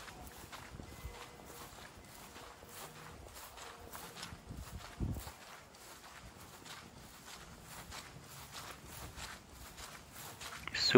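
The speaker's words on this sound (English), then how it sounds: "Super wet, you can hear my footsteps" Footsteps squish over soaked ground and red mulch around flower beds, a steady quiet walking rhythm close by, with a brief louder step partway through.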